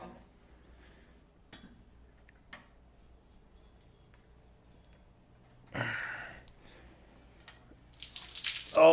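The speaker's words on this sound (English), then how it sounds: "A little bit of water." Water spills out of a used LS V8 engine from a season of pro-am drifting as it is flipped over, heard as two short splashing gushes, one midway and a louder one at the end, amid quiet handling noises.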